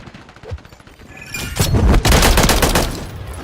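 Grenade explosions and gunfire in a first-person shooter video game: a few faint shots, then a loud burst of heavy booms and rapid overlapping gunfire dominating the last two seconds.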